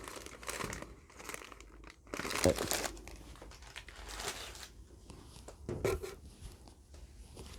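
Packing paper crinkles and rustles while potted hoya plants are unboxed, loud crumpling bursts recurring close by in irregular handfuls over several seconds.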